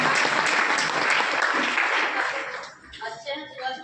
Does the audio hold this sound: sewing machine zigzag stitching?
no